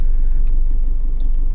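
A car moves off slowly as the clutch is released, a loud, close, low rumble that stays steady through a short stretch with no talk.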